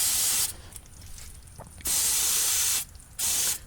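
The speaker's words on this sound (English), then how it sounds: "I'm just spraying a bunch of lubricant on these threads" An aerosol can sprays lubricant onto the threads of cheap coilovers in three loud hissing bursts, the first about a second and a half long, then two shorter ones, with quiet pauses between.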